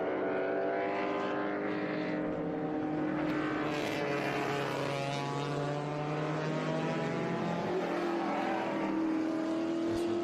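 Race cars come around Mission Foods turn 1 at VIR, among them a 1970 Chevrolet Camaro Z28. Several loud engines sound at once, their pitches shifting as they sweep past, with a continuous, layered roar and no speech.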